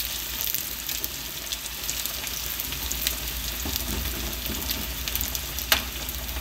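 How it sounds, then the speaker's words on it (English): Peanuts deep frying in oil over a low flame, a steady, even crackling sizzle close by with a faint occasional pop, no voices. "Keep low flame and deep fry and take."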